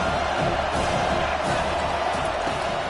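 Stadium crowd noise from the NCAA 25 college football video game, a dense, steady roar of cheering held at an even loudness throughout, with no distinct breaks or voices standing out.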